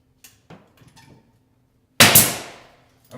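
A hammer drives nails into door trim: a few light taps followed by one sharp, loud strike that rings out and decays, close by with no talking.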